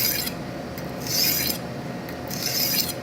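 A knife is drawn through the finer second side of a manual sharpener in two separate rasping strokes, close and scratchy, with quieter rubbing between them.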